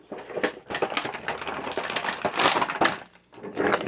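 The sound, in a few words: unboxing a Masters of the Universe figure from packaging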